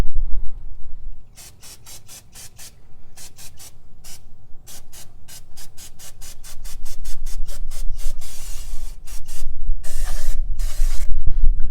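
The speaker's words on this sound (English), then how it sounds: "I'm going to go ahead and clean this up with some brake fluid." Aerosol brake cleaner sprayed during an oil change on a Porsche Cayman 987.1, loud close hissing bursts in a quick irregular series, some short and some held longer, with no voices.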